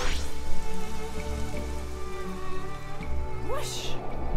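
Rain in the video game Xenoblade Chronicles Torna: a steady, soft patter of rainfall running throughout beneath game music, with a person talking over it.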